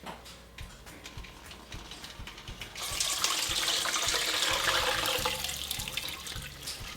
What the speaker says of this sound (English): we're gonna pour our syrup and everything in it into the strainer and into this bowl, just like this